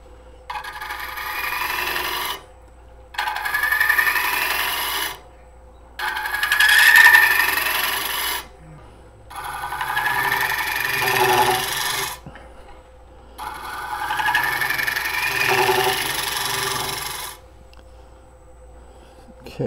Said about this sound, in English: When I'm making the shear cut and the scraping cut and the shear scrapes